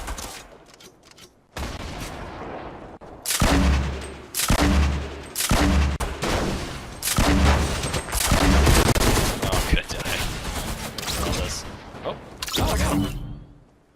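Rocket and grenade launcher blasts mixed with gunfire in the Pubnite battle-royale game, a run of loud repeated booming bursts with heavy low thumps after a quieter start, some faint talk beneath.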